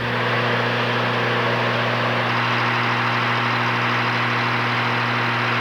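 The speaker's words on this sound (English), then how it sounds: "Monstrous tractors pull the huge leveling machine." A loud, steady drone of large tractors pulling a land leveling machine rumbles continuously, close by and unchanging, with no voices.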